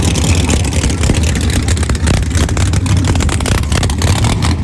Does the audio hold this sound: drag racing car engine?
yes